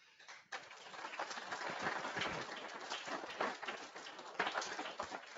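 Audience applause at a transport logistics round table in Munich, a dense continuous clapping that starts abruptly and sustains loudly throughout, swelling near the end.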